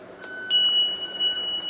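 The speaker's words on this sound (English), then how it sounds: "I'll close this to shut off my audible alarm for that emergency exit." A bus emergency exit's audible alarm sounds with a steady high electronic beep that begins partway through and carries on loud and continuous.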